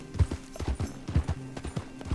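Horse hooves clip-clopping in Red Dead Redemption 2 as a rider passes at a walk, an even, close, fairly quiet beat of hoof strikes.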